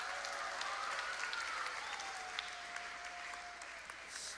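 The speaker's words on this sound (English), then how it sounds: "Let's give them a round of applause." Audience applause rises from a church crowd at a community crusade program, steady dense clapping at moderate distance that thins slightly toward the end.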